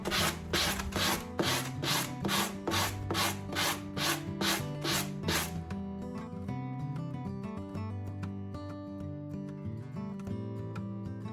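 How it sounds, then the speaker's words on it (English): Sandpaper scrubs along the free paper edge of a decoupaged table top in a dozen quick, even back-and-forth strokes over steady background music, then stops as the music carries on. "You want to sand off your free edge and it gives you a nice clean line."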